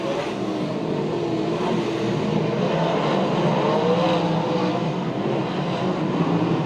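USAC/CRA sprint cars race through the north turns at Santa Maria, California, producing a continuous loud roar of several engines with shifting pitch as they pass nearby.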